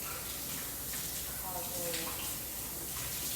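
Tap water runs steadily while a container is rinsed out in a kitchen, a continuous hiss and splash throughout, with a person speaking briefly over it.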